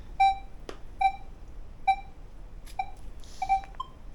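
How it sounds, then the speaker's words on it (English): A Minelab metal detector powering up emits a series of short, clear electronic beeps at steady intervals, ending in a quick cluster of tones, close and distinct against a quiet outdoor background. "I'll just turn the detector on."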